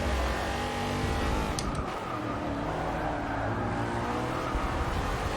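NASCAR race car engine in Forza 6 at Sonoma on the last lap, a loud, continuous droning roar with shifting pitch and a brief dip, steady and close throughout.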